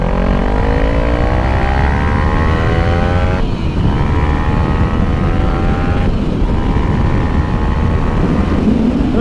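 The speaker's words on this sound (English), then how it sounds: "this is gonna be full throttle second gear" A 2014 Kawasaki Ninja 300 ABS motorcycle accelerates at full throttle in second gear, its engine whine climbing steeply in pitch, loud and continuous under heavy wind rush, with a brief dip around a shift and no talking.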